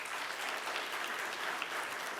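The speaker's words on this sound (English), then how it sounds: "A round of applause to Jocelyn and the team" Audience applause at a launch event, a dense, even wash of clapping from a crowd heard at moderate distance and fairly soft throughout.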